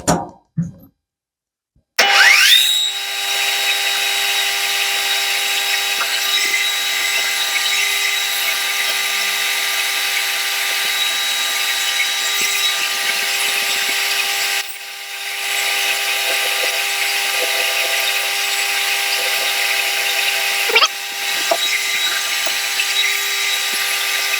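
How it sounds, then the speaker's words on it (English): A power drill whines loudly and steadily as it bores a valve rod hole, starting after a brief quiet gap and running for about twenty seconds with a short dip midway and a few small catches. "Let's just make sure we've got the drill chuck tightened up."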